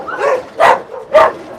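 Dogs caged on a dog meat farm bark in short, sharp bursts, three distinct barks with a whiny edge, close and fairly loud.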